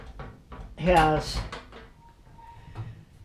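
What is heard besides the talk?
cabinet doors and drawers opening or closing in a barn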